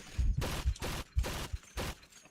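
Several rapid bursts of MG34 machine gun fire from Medal of Honor Heroes 2, about four short volleys separated by brief gaps, loud and close with no talk.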